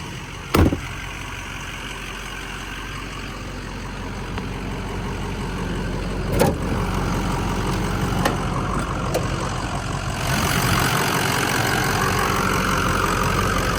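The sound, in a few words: 2006 Ford F250 truck engine running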